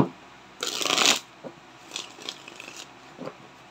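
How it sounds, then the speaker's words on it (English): A quick burst of tarot cards being riffle-shuffled up close, followed by a few soft taps and shuffles of the deck in a quiet room. "One last shuffle."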